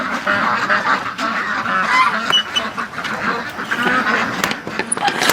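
A crowded flock of domestic ducks in a pen at night, quacking and honking continuously in a dense, overlapping chorus close by, with no talk.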